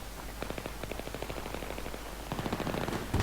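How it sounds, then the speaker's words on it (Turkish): Rapid bursts of automatic gunfire crackle in a firefight in the video game Battlefield 3, fairly distant and faint, with a louder burst at the end. "çatışma oluyor orada"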